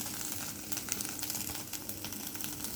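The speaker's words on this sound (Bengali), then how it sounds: "একটা ডিম নিয়ে পেঁয়াজ কাঁচামরিচ দিয়ে এরকম ঝুরঝুরা করে ভেজে নিচ্ছি" An egg scrambled with onion and green chili fries in a pan, a steady close crackling sizzle with small spatters throughout and no talking.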